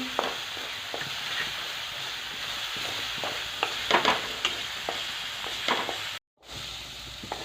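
Green chili paste sautés in a little oil for vada pav, making a soft, continuous sizzle with occasional scraping stirs of a spoon, plus a brief dropout near the end.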